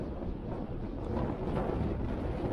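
Strong east wind buffets a cyclist riding into it, a low rumbling rush of gusts that stays steady and close throughout.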